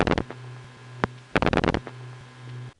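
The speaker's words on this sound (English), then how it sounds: "Typically, the rotary dialing sounds like this." Bursts of rapid pulse clicks from rotary dialing on a Bell system phone, captured off a phone line onto tape from the 1970s, with several quick click trains over a steady low line hum.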